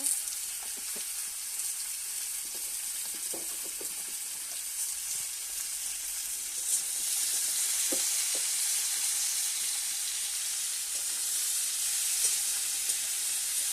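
Mixed vegetables with turmeric and salt frying and being stirred in a pan, a continuous bright sizzle with occasional scraping stir clicks, close and steady with no talk.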